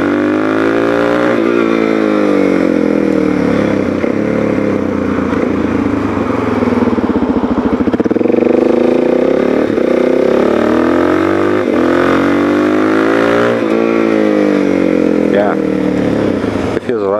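A Suzuki DR-Z400SM supermoto motorcycle being ridden, its single-cylinder engine droning loud and steady with rising and falling revs throughout, close and continuous.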